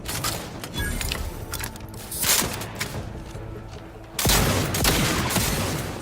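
A shotgun in The Outer Worlds video game fires in loud bursts amid mechanical clanking and game noise, with a heavy blast partway through.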